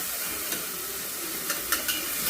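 Onion, tomato and masala sautéing in a pan give a steady close hiss, broken by a few light scrapes of stirring.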